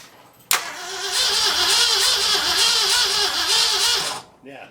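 A 1964 Ford F100 4x4 that sat for over 30 years cranks and fires, then holds a rough, loud, steady run for several seconds before cutting off abruptly.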